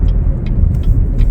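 A 2022 Chevrolet Blazer RS slows to a stop, heard from inside as a loud, steady low road and engine rumble with light faint squeaks.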